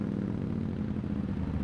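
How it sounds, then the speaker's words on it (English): Motorcycle engine in the Watch Dogs video game while riding around town: a loud, steady, droning hum that holds throughout without breaks. "seeing as I'm driving around town"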